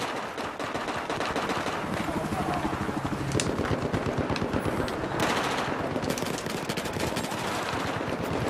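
Rapid automatic gunfire in a Battlefield 4 online multiplayer match on the Flood Zone map, long sustained bursts of sharp cracks with a few heavier shots, loud and nearly constant, with a voice talking over it at times.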